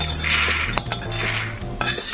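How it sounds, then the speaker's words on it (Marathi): Roasted peanuts are scraped out of a pan onto a plate, a loud, close jumble of rattling nuts and clinking metal with a few sharp knocks. "आपण याला एका प्लेट मध्ये काढून घेऊ।"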